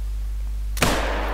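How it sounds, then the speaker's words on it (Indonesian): A single sharp rifle shot fired at an animal in theHunter: Call of the Wild, a sudden loud crack at about 0.8 seconds followed by a brief decaying echo, over a steady low hum and otherwise quiet surroundings. "Oke, kita tembak."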